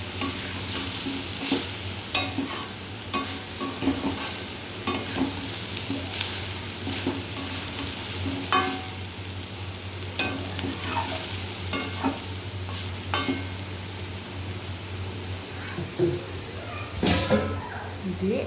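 Meat curry with cardamom and cinnamon stirred in a pan: continuous sizzling with frequent clinks and scrapes of a spoon across a long stretch, a low hum underneath and a faint cat meow at moments.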